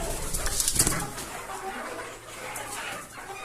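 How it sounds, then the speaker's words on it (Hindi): Chicks chirp and peep in a busy cluster while being given homemade feed, close and fairly loud at first, then thinning to softer calls. "अभी चूज़ों को दे के दिखाते हैं आपको।"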